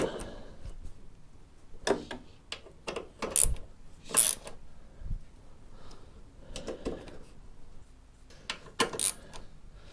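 Bolts are tightened while a towbar is fitted to a 2013 Mini Clubman, giving scattered metallic clicks, ratchet ticks and clinks at close range, intermittent and fairly quiet, without speech.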